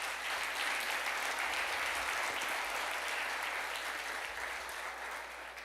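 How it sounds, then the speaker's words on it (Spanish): A church congregation applauds during a Sunday sermon, a dense, steady wash of many hands clapping together that holds at full strength for several seconds and eases slightly at the end. "Aplauda la gloria de Dios."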